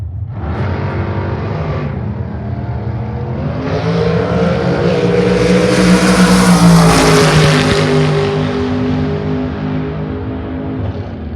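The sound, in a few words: Super Comp drag race cars, 2002 Davis chassis and Yancer, launching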